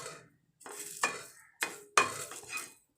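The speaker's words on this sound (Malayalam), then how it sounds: "കറിവേപ്പിലയുടെ വെള്ളമൊക്കെ വിട്ട് വന്ന് നല്ല ക്രിസ്പി ആയിട്ട് മൂപ്പിച്ചെടുക്കണം" Curry leaves and garlic frying crisp in a pan, with short bursts of scraping and stirring against the pan over a soft sizzle, close and without talking.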